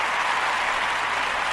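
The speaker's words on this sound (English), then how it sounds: "Claps." Steady applause from an indoor crowd, a continuous dense wash of clapping at even loudness for the whole moment, with no voices over it.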